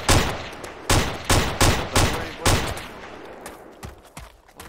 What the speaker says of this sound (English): Why are you shooting at people's houses?